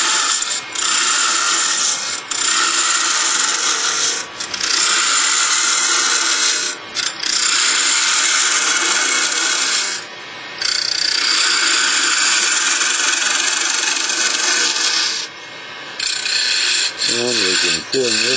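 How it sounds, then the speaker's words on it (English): A detail gouge carves an acorn from wood, giving a continuous close rasping scrape in long strokes with brief pauses between cuts. Faint speech is barely present underneath. "Now we're going to use our detail gouge."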